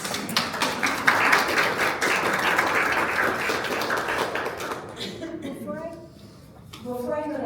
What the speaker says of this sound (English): Why don't we give that a round of applause?